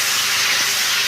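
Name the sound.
taro leaves added to hot pan sizzling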